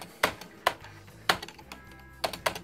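Key presses on a Canon V-20 MSX computer keyboard with an AZERTY layout, six crisp, separate clicks at an uneven pace, close and clear with no talk.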